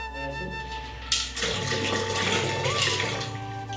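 Water pouring and splashing from a home aquarium holding goldfish, a steady gushing flow starting after a brief hum and continuing loudly near at hand, with an aerator hum underneath.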